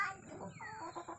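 Faint clucking from fowl, identified as a duck, a few short quiet calls heard at a distance over low background noise.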